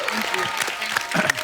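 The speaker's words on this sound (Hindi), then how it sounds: "एक बार प्रियंका चोपड़ा और रोहित के लिए जोरदार तालियां हो जाए" A studio audience at a comedy talk show claps and cheers over a short stretch, a dense crowd sound heard beneath a voice speaking.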